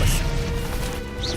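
Expelliarmus, a disarming spell, fired during a fight in Hogwarts Legacy: a loud burst of crashing, smacking effects opening onto a sustained noisy swirl with a brief bright swish near the end, all amid constant combat clamor.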